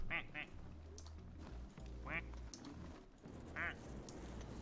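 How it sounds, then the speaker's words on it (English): Several short bursts of quacking from ducks in the Placid Plastic Duck Simulator video game, spaced apart over a low steady background hum, with a person talking at times. "I'm, of course, commentating all of these quacks just so Maxie knows when there's a unique quack"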